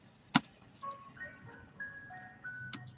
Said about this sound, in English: Listen to the ice cream truck.